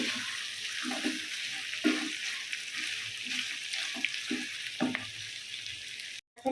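Beef for a bhuna curry fries over high heat in a pan, a steady close sizzle broken by regular scraping stirs about once a second, with no talking and a brief cut just before the end.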